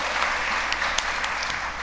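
Audience applause welcoming newcomers at a gathering, a short burst of scattered hand claps from a modest crowd, steady and fairly close.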